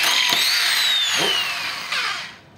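A power drill with a large bit whines loudly and steadily while boring out a broken exhaust manifold bolt, then winds down and fades near the end.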